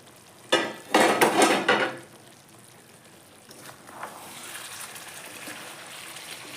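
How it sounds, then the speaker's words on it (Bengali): A pot lid is lifted off chicken kosha simmering on the stove, making a loud, close metallic clatter and scrape for about a second, followed by a quieter steady sizzle of the cooking pot. "এখন ঢাকনা খুলে দেখে নেব"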